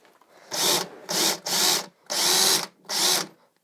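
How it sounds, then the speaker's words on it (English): Power drill boring holes into a wooden desk for screws, five loud close whirring bursts of under a second each with short gaps between them and no voices. "Now let's get to drilling."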